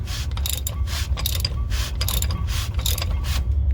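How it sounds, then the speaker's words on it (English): A ratchet wrench tightens a diesel fuel filter on a 2016 Ford F350 6.7 diesel, giving a steady run of close, rapid clicking strokes that continue evenly with no pause. "now I'm going with a ratchet, and you'll be able to tell whenever it stops"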